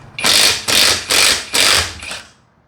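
An OUHOUG 21V cordless impact wrench removes nuts in four loud, close hammering bursts followed by a shorter fifth burst, each lasting about half a second, with no voices.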